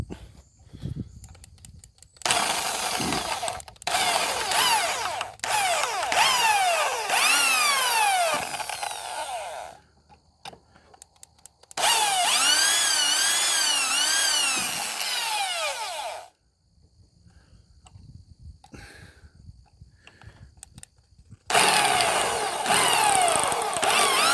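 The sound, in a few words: drilling out screw heads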